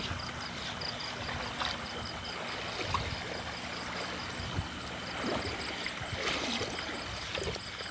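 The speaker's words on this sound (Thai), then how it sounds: "โอ้น้ำไหล" A stream flows and trickles continuously at moderate volume, with occasional splashes and gurgles and no talking.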